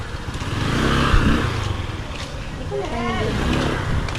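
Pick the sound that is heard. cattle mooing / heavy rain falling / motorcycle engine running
motorcycle engine running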